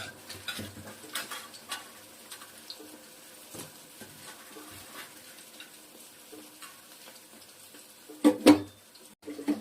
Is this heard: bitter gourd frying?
yes